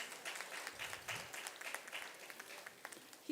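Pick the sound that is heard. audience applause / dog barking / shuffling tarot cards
audience applause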